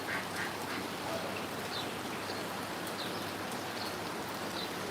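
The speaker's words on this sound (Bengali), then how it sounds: "কি পরিমাণ বৃষ্টি হচ্ছে ভিডিও দেখে বুঝতে পারতেছেন" Heavy rain pours down in a steady, dense hiss that fills the whole stretch, while faint, scattered duck quacks break through now and then in the background.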